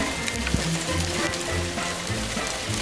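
Hailstones pelt down outdoors in England in a steady, dense patter of rapid hard ticks and rattles, continuous and fairly close, with no voices.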